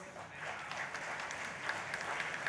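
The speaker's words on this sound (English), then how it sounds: "I think you need a round of applause" An audience at a company AGM claps in a steady, moderately loud round of applause for the firm's anniversary, a dense patter of hands sustained evenly throughout with no voices over it.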